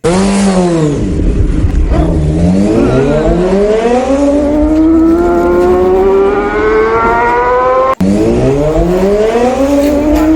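A motorbike engine fires up in a village and revs hard, its pitch climbing and falling in loud rising sweeps, with a brief sharp click partway before the revving resumes.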